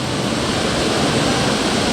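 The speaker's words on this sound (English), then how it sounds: "I have not seen anybody photograph this particular waterfall" Steady, dense rush of falling water from a waterfall in the Mount Magazine Wildlife Management Area, continuous and close with no pauses.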